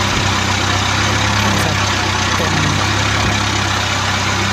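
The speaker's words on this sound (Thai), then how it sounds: "ตรงไหนที่ เสียงรถรถไถมันจะดังนะครับ" A Kubota MU5501 farm tractor engine drones loudly and steadily from start to finish while ridging a cassava field, a constant close chugging roar.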